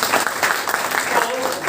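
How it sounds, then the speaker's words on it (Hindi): A crowd at a training-program gathering breaks into loud, sustained clapping that stays dense and even throughout. "जिन लोगों के लिए जोरदार ताली होना चाहिए।"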